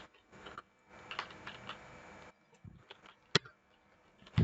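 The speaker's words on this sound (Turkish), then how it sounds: "A tuşuna basıyorum" Computer keyboard keys pressed while playing a CS:GO surf map: scattered light key taps and clicks, close and quiet, with short pauses between presses and a sharper click near the end.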